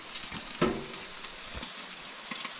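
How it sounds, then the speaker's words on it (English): Soft, steady sizzling of bacon frying in a pan, with a few sharper crackles and pops standing out against a quiet background, at a riverside campsite. "Frying up some bacon."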